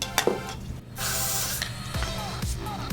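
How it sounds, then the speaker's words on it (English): Hairspray hissing from an aerosol can onto small sections of hair being prepped for a poofed dance hairstyle, a steady close spray lasting under two seconds with light handling noise around it. "and then normally I spray it"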